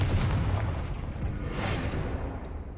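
Booming blast from the Confringo fire spell in the Hogwarts Legacy game, a dense low rumble sustained for about three seconds with a brighter burst near the middle.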